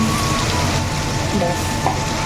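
Sliced onion fries in hot oil in a home kitchen pan, giving a loud, steady sizzle with light crackling throughout.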